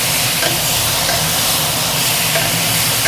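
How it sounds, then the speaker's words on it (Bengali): Cauliflower sprinkled with turmeric sizzles steadily in a hot pan, a loud, continuous frying hiss with faint stirring scrapes underneath. "এটাকে বলে একটু সাঁতলানো।"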